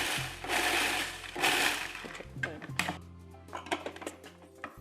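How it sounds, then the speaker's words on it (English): Food processor pulsing nuts and dried fruit in two or three short loud whirring bursts, followed by a clatter of lid and bowl handling nearby. "We'll just pulse it a few times to give it a nice, finer consistency."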